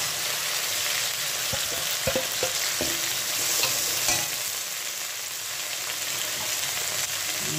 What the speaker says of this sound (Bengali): আর এই যে এবারে যে মশলাটা করেছিলাম এটা দিয়ে দেবো।